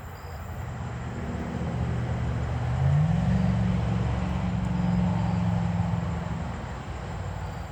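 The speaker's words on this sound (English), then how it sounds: "I usually get pretty quiet if I've got cars going by. It is a pretty active road, especially this time of night." Cars pass one after another on a busy road at night, a continuous low rumble of traffic swelling and fading as vehicles approach and go by at moderate distance.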